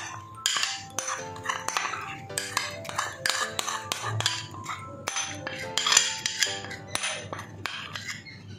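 A utensil scrapes and clinks against a bowl as spice paste is mixed into fried egg, a busy run of close, sharp metallic taps and rubs, with no talking.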